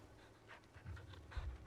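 A dog pants quietly in Final Fantasy XVI, a soft run of quick breaths growing slightly louder toward the end, alone with no talk.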